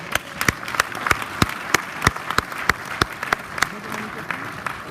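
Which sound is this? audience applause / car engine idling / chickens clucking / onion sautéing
audience applause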